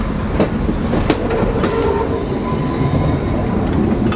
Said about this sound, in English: We're actually on the back of the train.